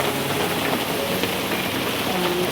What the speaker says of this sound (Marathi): पण जरा पाऊस पडतो येतो.